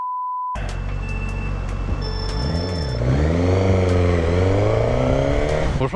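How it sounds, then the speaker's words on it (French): A 2022 Suzuki GSX-S 1000 motorcycle exhaust while riding, a loud steady engine drone that rises and falls as the rider revs and changes speed, with no talk over it. "je pense que vous avez entendu un petit peu déjà l'échappement. Vous entendez que ça sonne relativement bien quand même."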